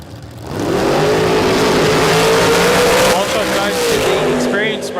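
An orange dragster roars hard and close at a Queensland drag racing championship round, its loud sustained engine note climbing steadily through the run, with a commentator talking over it.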